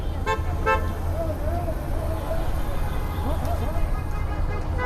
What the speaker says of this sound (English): You can already see cars honking and traffic stopped a little bit.